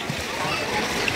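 A child splashes in a swimming pool while learning to swim, giving short close splashes and sloshing under loud talk from people nearby.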